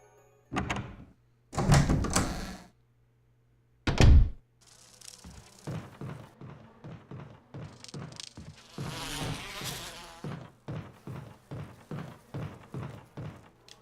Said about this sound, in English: The bees thankfully hover and then stab at you rather than land on you and attack.